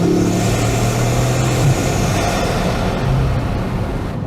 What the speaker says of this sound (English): I've heard a lot of tuned cars, you know, where they have like really loud turbos.